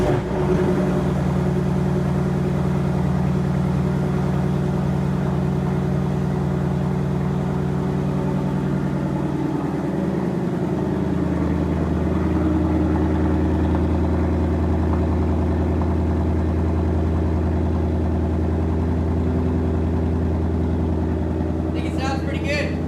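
A 2019 Ford Mustang GT V8 with a newly fitted setup running at a steady, loud, deep idle close by, its low rumble holding throughout with a slight dip partway.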